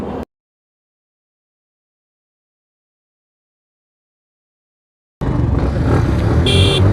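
Bajaj CT110X and TVS Victor motorcycles in a drag race: after a long stretch of silence, engine roar cuts in loud and close for the final couple of seconds, rising in pitch.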